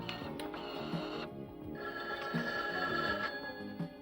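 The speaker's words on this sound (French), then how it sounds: "J'ai l'impression que cette sonnerie tape sur les nerfs de Robose" An old telephone rings in a 1984 television drama, a continuous electronic trilling bell that pauses briefly and starts again, loud and alone with no speech.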